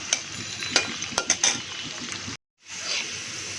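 Garlic cooking slowly in a pan over low heat, a soft sizzle with a few quick clinks of a utensil early on, then a short silent gap before the quiet sizzling resumes.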